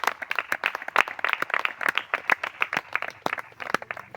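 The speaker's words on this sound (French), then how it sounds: "On acclame le roi des rois" A church congregation at a water baptism in Savalou claps and applauds in a lively, dense burst of many hands, steady and fairly loud throughout, with a few voices faintly underneath.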